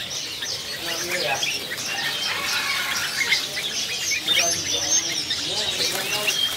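Caged songbirds at a market bird kiosk chirp, tweet and squawk in overlapping bursts, a busy, fairly close chorus of quick calls that continues without pause.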